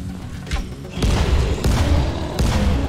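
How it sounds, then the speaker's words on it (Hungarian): Explosive arrows detonating in the zombie game Dying Light: The Following, heard as a series of three deep, heavy booms at roughly even intervals, each with a rumbling tail, fairly loud and close amid game ambience. "a robbanó nyíl lerobbantja róla a páncél"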